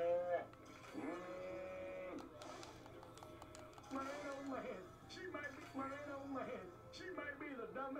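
Cows in the video game Destroy All Humans moo several times in drawn-out low calls, overlapping with game sounds, while a person talks over them.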